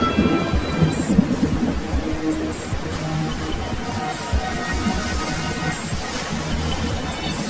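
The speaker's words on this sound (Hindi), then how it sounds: "तभी तेज बारिश और तूफान आ गया" Rain pours steadily while low thunder rumbles, broken by several brief bright bursts of noise.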